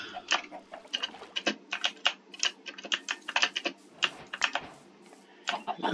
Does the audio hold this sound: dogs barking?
no